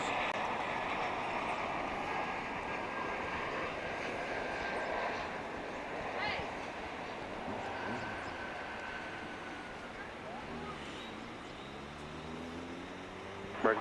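A departing airliner climbs away from DFW Airport at night, a distant, steady jet rumble that slowly fades and shifts in pitch, faint and unbroken.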